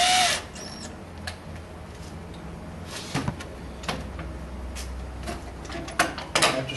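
A power drill drives screws into hinges on a wooden nesting box, with short separate whirring bursts and clicks, fairly quiet and close, spread across a quiet background.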